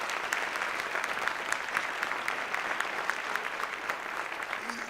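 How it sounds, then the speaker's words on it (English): An audience at a Founder's Day evening applauds its award recipients, a dense, sustained wash of many clapping hands that holds at an even level for about five seconds without speech. "join me by giving all of them one more round of applause"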